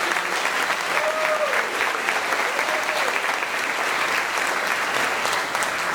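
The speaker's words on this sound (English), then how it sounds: "Let's have another round of applause for Dr." Sustained, dense audience applause at a promotional ceremony, loud and even throughout with no break, a hall full of clapping hands.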